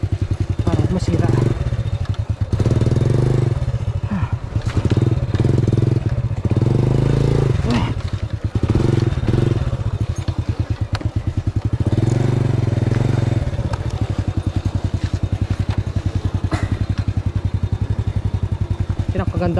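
A Honda 100 trail motorcycle engine chugs and revs in bursts while riding through a ditch over rough ground, with clattering and scraping, close and loud, and people talking over it.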